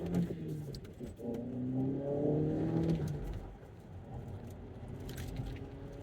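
A Volkswagen Golf GTI accelerates hard at full throttle, its engine note rising steadily in pitch through the gear before settling into a sustained drone heard from inside the car.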